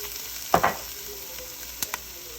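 Garlic sizzles in a pan of softened onions for a Cajun Creole dish, with a low, quiet frying hiss and two short, sharper crackling bursts as it hits the hot pan. No one speaks.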